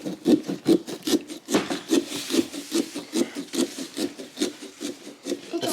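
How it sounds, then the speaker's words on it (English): A hand saw cutting through a Halloween pumpkin, a steady back-and-forth rasp of even strokes, close and fairly loud, with no voices. "That's a good sawing action."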